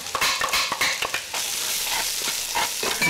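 Minced onion and ginger sautéing in a pan for mung bean guisado, a continuous sizzle broken by scraping stir strokes, close and fairly loud with no talking.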